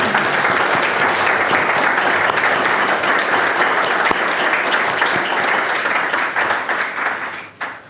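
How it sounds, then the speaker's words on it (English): Sustained applause from an audience at a college alumni reception, dense and steady clapping that fills the room before tapering off near the end. "let's give Molly a round of applause."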